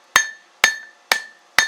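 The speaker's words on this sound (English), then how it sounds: "Better off with a hammer like this for this job" A hammer strikes a hot railroad spike being forged into a tomahawk, turning the flap over against the shoulder: four sharp metallic blows at an even half-second rhythm, each with a bright ringing tail, close and loud with no talk.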